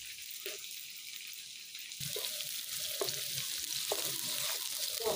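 Soft sizzling of food frying in a pan, with occasional scraping clinks as it is stirred, fairly quiet and close.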